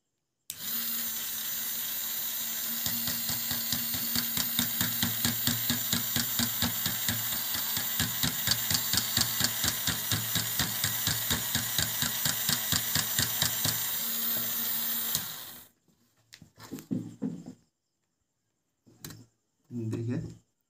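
A homemade vegetable cutting machine driven by a geared 5 volt motor runs with a steady, loud buzzing whir for about fifteen seconds, then stops, leaving a few short rustles and clunks; someone speaks throughout.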